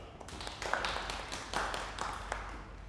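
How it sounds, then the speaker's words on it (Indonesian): A classroom claps for a student group during a microteaching session, scattered light hand claps in a small room, soft and somewhat irregular. "Tepuk tangan dulu untuk kelompok 2."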